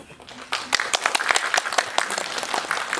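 A cinema audience at a film premiere stage greeting bursts into applause, a dense patter of many hands clapping steadily at moderate volume for a few seconds.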